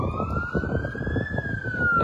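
An ambulance siren carrying an injured woman away after a brawl at a circus: a steady rising and falling wail over constant traffic rumble, loud and close throughout.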